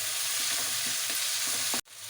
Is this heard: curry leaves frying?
yes